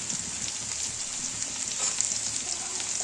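Pieces of mesta flower, the sour fruit's outer shell with the seeds removed, fry in hot oil with a steady, dense sizzle that stays close and constant, with no voices over it.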